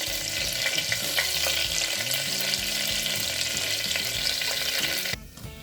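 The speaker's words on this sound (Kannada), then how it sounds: "ಬಟರ್ ಮತ್ತು ಆಯಿಲಲ್ಲಿ ಸ್ವಲ್ಪ ಫ್ರೈ ಮಾಡ್ಕೋಬೇಕು" Whole spices such as cumin, peppercorns, cinnamon and cloves frying in butter and oil for peas pulao, giving a steady close sizzle with stirring scrapes that ends abruptly near the finish.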